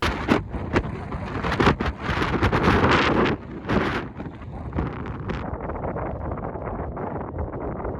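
Strong wind buffets a microphone while cycling across the United States, roaring in loud, gusty bursts up close, then settling into a steadier, lower rush of air.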